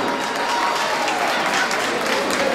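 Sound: audience applause

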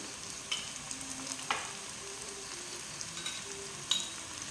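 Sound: coriander powder and spices frying and stirred for chicken kurma

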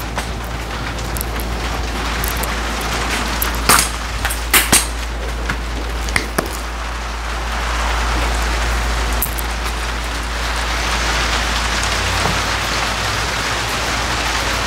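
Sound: rain falling

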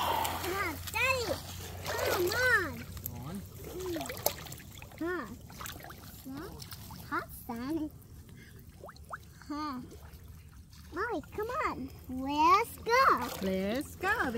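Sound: splashing water while swimming

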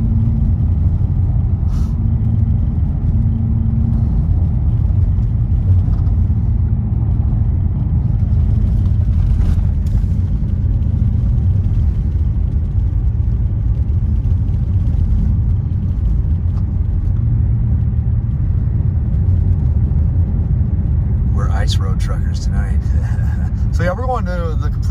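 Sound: car driving on snowy road at night

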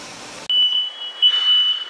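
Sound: kitchen smoke alarm beeping

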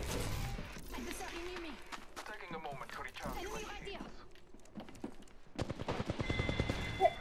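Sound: gunshots in the video game Apex Legends

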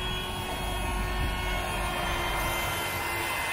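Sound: air pump inflating a tent mattress

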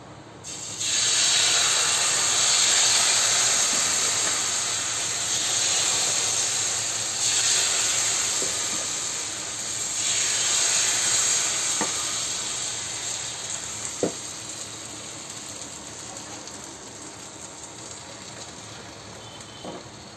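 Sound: rice flour dosa batter sizzling on hot pan

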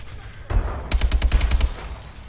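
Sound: gunfire in Call of Duty Advanced Warfare video game

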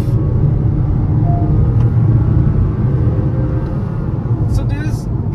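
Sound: SUV engine roaring after shifting to lower gear

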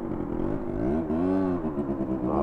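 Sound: motorcycle engine revving at a stop

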